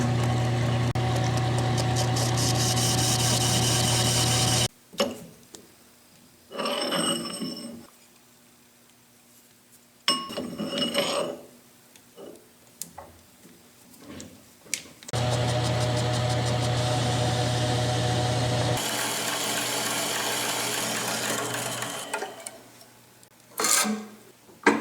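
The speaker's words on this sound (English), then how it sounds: "I'm going to start by facing off each end of the tube." Lathe facing off the ends of heavy-wall tubing, cut into bushings for a Yates American B244 feed roll suspension: loud sustained machining passes with a steady motor hum, broken by quieter pauses between cuts.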